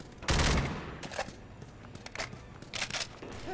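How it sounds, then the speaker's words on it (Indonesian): Gunfire in Left 4 Dead 2: a loud opening burst of shots followed by scattered single and clustered shots, with another heavy burst near the end, all without talk. "Kenapa gue yang tembak anjir?"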